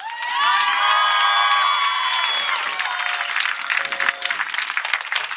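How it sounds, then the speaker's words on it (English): Crowd at an outdoor Gaza peace and anti-racism rally applauding and cheering, with loud whoops and shouts over steady clapping at first, then the voices fade and the clapping thins out. "Give yourself a big round of applause"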